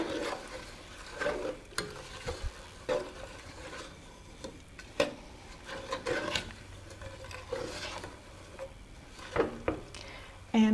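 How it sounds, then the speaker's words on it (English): Spoon scraping and stirring through cake ingredients with pecans and coconut in a bowl, an irregular run of close scrapes and soft knocks, with some brief talking. "I'm going to mix this all together"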